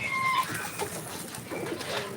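Pigeons coo at a farm, a soft fluttery bird call with a few brief chirps over a steady light background rustle, fairly close and moderately loud.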